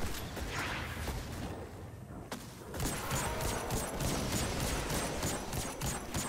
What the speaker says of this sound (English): Those guys just keep shooting